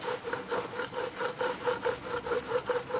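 A Honda CRF 250 engine bottom end is turned by hand during a strip-down, giving a rough, rhythmic grinding rasp that repeats about five times a second, close and fairly quiet, with no talk.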